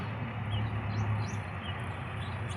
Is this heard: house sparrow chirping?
yes